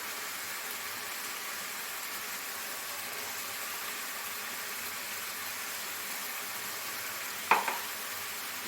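Poppy seed paste frying in a pan gives a steady, even sizzle that holds throughout, with a single brief clatter near the end.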